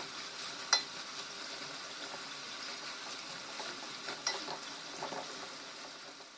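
Quiet, steady sizzling of vegetables quick-frying in a pan, with a few sharp clicks and stirring scrapes along the way.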